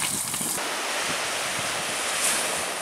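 Strong wind roars steadily at a lakeside wayside in northern Wisconsin after a front has passed, with dense, continuous rushing noise buffeting the microphone and a brief gust swell near the end.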